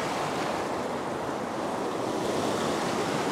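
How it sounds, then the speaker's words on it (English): Ocean waves surge and swirl against coastal rocks at a rock-fishing spot, a steady, loud, broadband wash of surf that continues without a break, with some wind noise on the microphone and no voices. "when the waves like this come in here, it swirls around in here and then it, it funnels out there"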